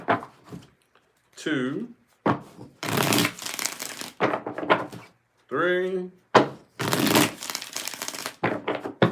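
Tarot deck being shuffled in short bursts of crisp riffling and slapping card noise, repeated several times between stretches of close talking.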